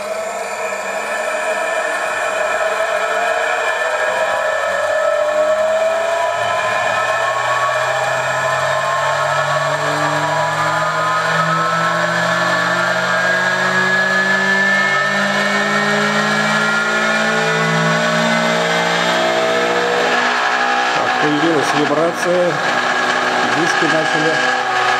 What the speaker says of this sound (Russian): Подаем питание нового двигателя 30 вольт для вращения их в противоположные стороны.